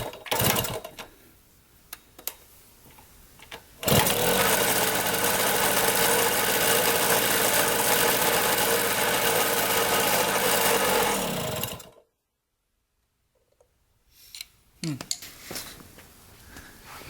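A Honda Elsinore 50cc motorcycle engine with a fuel problem buzzes loud and steady for about eight seconds, then cuts out abruptly, with sputtering attempts and a voice talking before and after.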